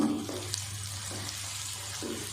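Chopped onions frying in a pan with green cardamom, black cardamom and bay leaves, a steady close hiss and sizzle running throughout with no talk.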